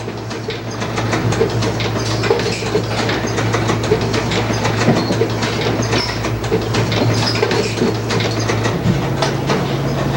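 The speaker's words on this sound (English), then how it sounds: "This auto pin welder, just like the name says, welds pins to metal parts automatically." An automatic pin welder fixing pins to metal parts for CRT manufacturing sets up a loud, steady mechanical clatter with rapid rhythmic clicks and a low machine hum.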